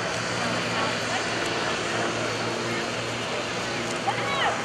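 Airshow T-34A Mentor propeller planes drone steadily at a distance, a continuous broad engine roar with a talking voice underneath it.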